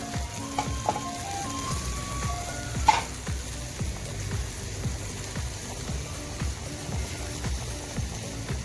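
Mutton and tinday frying with ground tomato in a pan, a dense close sizzle with frequent spatula scrapes and one sharper clatter near the start, alone without speech.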